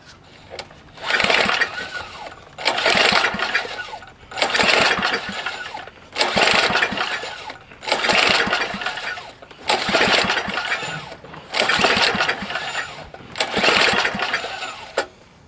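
A Tecumseh HS 40 small engine is pulled over repeatedly, about eight loud rhythmic cranking bursts with pauses between, sputtering without settling into a steady run.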